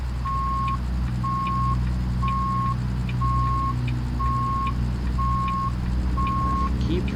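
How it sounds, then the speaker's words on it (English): A truck's reversing beeper in American Truck Simulator sounds in steady, evenly spaced tones, about one per second, over a loud continuous engine drone. "keep forgetting to rip out that beeper"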